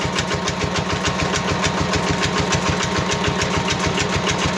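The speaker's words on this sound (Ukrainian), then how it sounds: "І у нас генератор вже працює." A homemade generator built from an old electric motor runs steadily close by, giving a loud, continuous engine-like drone with a fast, even pulsing throb throughout and no talk.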